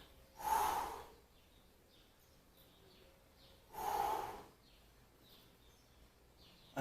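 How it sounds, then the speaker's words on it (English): Two sharp, forceful exhalations during a TRX suspension-trainer workout, each a brief breathy whoosh about three seconds apart, close and fairly quiet against a hushed room. "Just breathe out."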